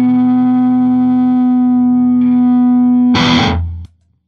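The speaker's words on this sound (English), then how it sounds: "that needed a little distortion" A sustained, buzzing note from a 1996 Gibson SG Standard electric guitar with heavy amp distortion on the lead channel, then a loud, harsh burst of crunchy chords that cuts off abruptly.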